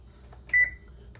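An oven's timer gives a single short electronic beep as it is set in a home kitchen, clear and close amid light handling noise.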